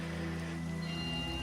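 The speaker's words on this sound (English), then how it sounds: "even Minecraft is deciding it's going to rain on my parade today" Steady rain in the video game Minecraft, an even hiss that runs without a break under a low tonal game hum and other layered in-game sound.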